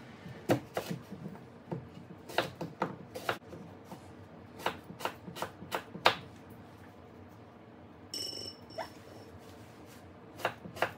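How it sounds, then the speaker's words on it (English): Knife slicing through an apple for a duck and savoy salad, giving a series of crisp, sharp cutting clicks in irregular bursts close by, with a brief rattling clatter near the end. "I want to slice up an apple"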